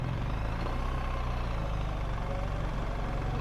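Steady low engine drone of a BMW R 1300 GS Adventure motorcycle with automatic gearbox, running in first gear at a gentle pace, heard continuously with road and wind noise and no talk.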